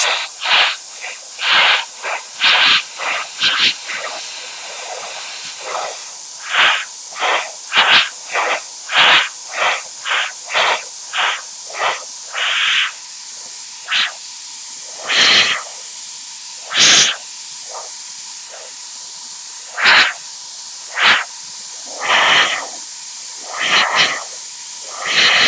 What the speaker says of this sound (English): I am spraying off of the red now. I'm spraying on the inside of the red.